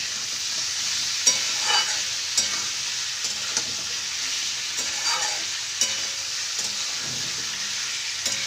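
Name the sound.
chicken and onion frying together in a pan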